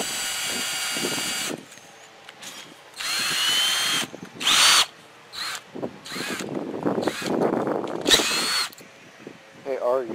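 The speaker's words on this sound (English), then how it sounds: "I'm going to drill this pilot hole kind of not straight in" A power drill whirs in several short bursts, drilling an angled pilot hole for a garden gate, starting and stopping with brief pauses between them. A voice speaks quietly in the gaps.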